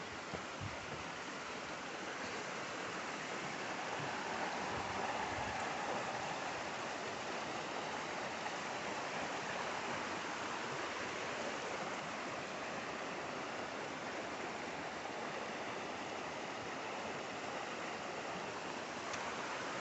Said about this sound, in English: this, I presume, is Fox Creek